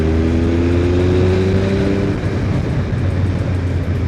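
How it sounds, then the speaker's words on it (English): Triumph Speed Triple 955 triple-cylinder motorcycle accelerating uphill in fourth gear as the throttle opens, a loud, steady engine drone with rising pitch, heavy wind rush and no talking. "you can be going uphill in 4th gear and just pull back the throttle."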